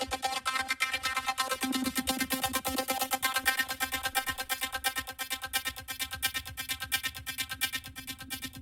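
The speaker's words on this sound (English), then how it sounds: "I have another filter sweep going on down here on this top track. It's a repeated note." A repeated synth note in an electronic music track, starting tightly squashed and gradually opening up as a filter sweeps upward, pulsing steadily and loudly with a dense, buzzy tone and no voices.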